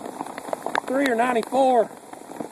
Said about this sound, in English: This is the second worst hailstorm I've ever been in.